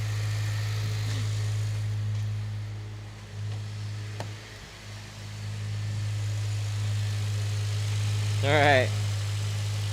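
A car engine idles steadily to recharge its battery, a low constant hum close by, while a voice speaks briefly over it.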